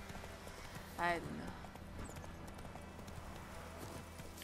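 Horse hooves clip-clopping in The Witcher 3 video game, a short burst of hoofbeats under ongoing game ambience, with a person talking over it.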